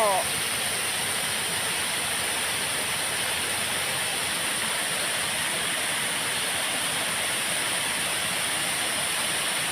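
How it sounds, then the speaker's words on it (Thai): Water pours over an overflow weir at a waterfall and gives a dense, constant rushing roar that stays loud and unbroken throughout. "มาชมน้ำตกค่ะ"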